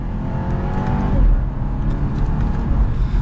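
A 2022 BMW 530i accelerating in second gear in sport mode, heard from inside the cabin as a steady, fairly loud engine drone that swells slightly, with no talking.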